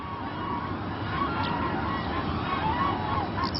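Cranes call across a valley in Bhutan, their repeated honking cries overlapping at a distance over a constant rushing background.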